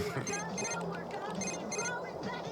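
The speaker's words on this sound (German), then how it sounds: "Scheiße, Telefon." A telephone rings in The Sims 3 life-simulation game, a repeated electronic ring in short regular bursts, sounding under a continuous bed of game music and ambience with talk over it.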